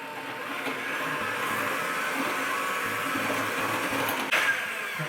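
An electric mixer creams brownie cookie dough ingredients, a steady loud motor whir running continuously with slight shifts in pitch as the beaters work, close by and with no voices.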